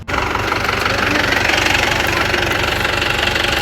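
Motorcycle engine running close by on a farm, a loud steady rapid thumping idle with a brief jolt at the very start and no talk.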